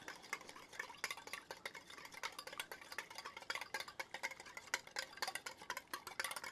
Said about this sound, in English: I'm going to whisk this dressing up a little bit more here